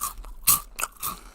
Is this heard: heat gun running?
no